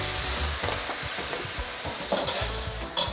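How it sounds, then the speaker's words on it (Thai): Young coconut shoots and shrimp stir-fried in a pan, a continuous sizzle broken by repeated scraping and tossing strokes of the spatula, close and loud with no talking. "เราก็จะผัดให้ยอดมะพร้าวเขาสุกก่อนค่ะ"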